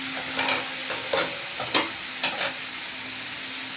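Cabbage and potato stirred into frying catla fish curry masala, Assam style: a steady close sizzle punctuated by several rhythmic stirring scrapes, no talking.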